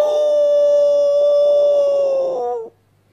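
A man imitates a dog's howl at night with a single long, steady, tonal howl that sags slightly in pitch before cutting off abruptly into near silence.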